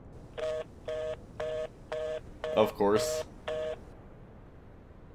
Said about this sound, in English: Who still has a landline anyways?